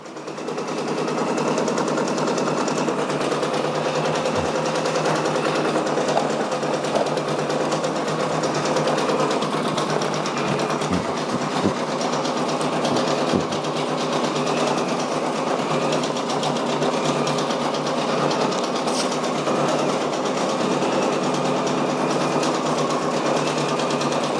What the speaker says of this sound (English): This is the final stitching that it needs to do.